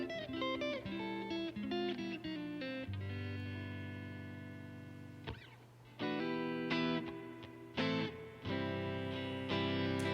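Electric guitar played through a Fender Tonemaster Super Reverb amp with spring reverb and tremolo, ringing chords and single-note runs with lush reverb tails, several sustained chords and a brief pause before strummed stabs resume, loud and clear with no talking.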